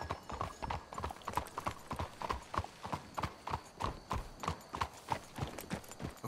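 Horses' hooves clip-clop steadily and up close in the video game Red Dead Redemption 2, a brisk, even rhythm of hoofbeats that continues throughout with no talking.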